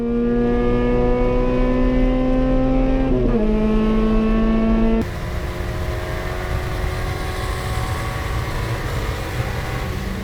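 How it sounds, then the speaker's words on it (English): Honda Civic race cars, including a 1989 Civic EF, roar loudly along a wet track's backstretch in a drag race, with a steady engine drone that shifts pitch as gears change, then fades into a broader, rougher rush of passing cars. "a drag race down the backstretch"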